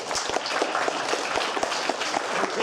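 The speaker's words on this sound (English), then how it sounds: "Let's give them a round of applause." Children's hackathon audience applauding, a dense burst of clapping from many hands that holds steady for a few seconds at moderate volume.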